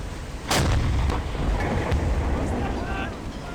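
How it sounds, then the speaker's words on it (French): Naval artillery fire hits a ship in the submarine game Silent Hunter 5, and one sharp loud blast is followed by a rumbling explosion that fades into wind and sea noise. "Il y a une grosse explosion."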